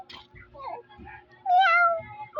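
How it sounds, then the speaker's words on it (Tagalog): A few cat meows, one long rising-and-falling meow standing out, with soft voices and movement between the calls. "may napapasok ng pusa"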